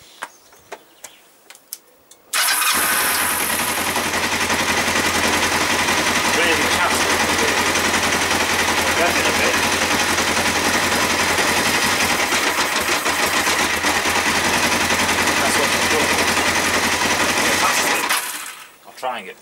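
An ER 500 motorcycle engine with a carburettor float problem starts abruptly after a few clicks during an ignition coil test, then runs loud and steady with a rattling mechanical buzz for about fifteen seconds before cutting out.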